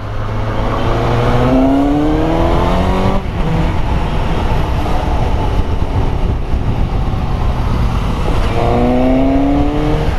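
A motorcycle with a low-RPM assist revs hard at full throttle, loud and close, its engine note climbing in rising sweeps, dropping on a gear change, then climbing again with steady roar throughout.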